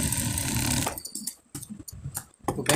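Sewing machine stitching the back panel of a child's kabli panjabi, a steady whirring run that breaks into short, uneven bursts of stitching with pauses between, close and fairly quiet.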